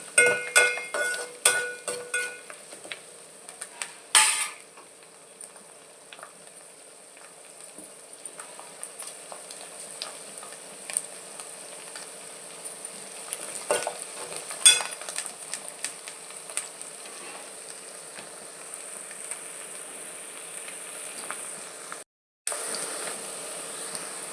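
Amaranth leaves fry in a pan with curry leaves while being stirred, giving a faint steady sizzle and occasional scraping clinks of a spoon against the pan, with no talk.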